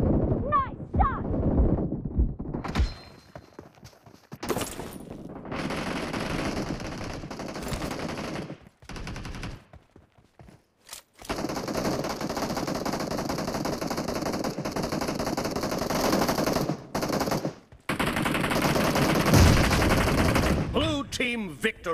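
SCAR-L assault rifle fire in a PUBG Mobile team deathmatch: loud sustained automatic bursts repeat across the stretch, broken by short gaps, with game announcer voice lines mixed in.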